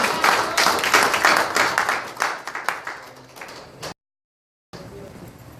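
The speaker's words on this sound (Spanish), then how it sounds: "Denle un aplauso al Señor." A church congregation applauds during a Spanish-language sermon: loud, dense clapping from many hands that gradually thins, followed by a brief dead-silent gap and then quieter room sound.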